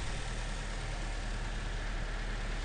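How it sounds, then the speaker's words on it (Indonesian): A 2008 Toyota Avanza G manual petrol engine idles steadily nearby, a constant low rumble with an even hum and no changes in speed or misfiring. "masih asli di mesin pun tidak ada yang rembes atau pincang dari suaranya"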